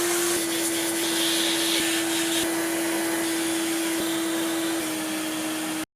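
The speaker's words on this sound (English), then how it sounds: "I vacuumed all the boards and the related parts" A vacuum cleaner runs loud and close with a steady high whine as it cleans the circuit boards and parts of a Casio DG-20 digital MIDI guitar, with faint bumps of the nozzle along the way.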